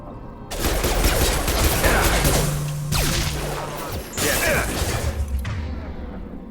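Gunfire in the Mass Effect 2 video game, a loud, sustained fusillade of rapid shots with mechanical clatter and crashing impacts, continuous for several seconds before tailing off.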